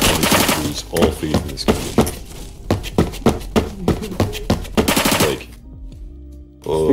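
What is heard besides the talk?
MG36 machine gun fire in video game Phantom Forces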